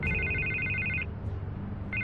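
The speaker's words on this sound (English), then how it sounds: "I can't get the phone to stop ringing." A telephone rings in a Batman video game: a trilling electronic ring lasts about a second, pauses, then starts again, loud and near with a low background hum.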